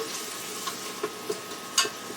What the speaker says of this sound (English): And as you can hear it sizzling, we stir it together.